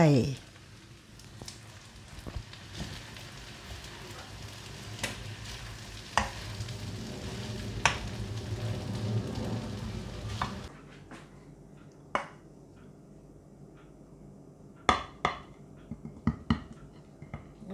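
Shrimp fried rice sizzles and fries in a wok with scraping stir strokes, steady for about ten seconds, then quieter clinks and taps near the end.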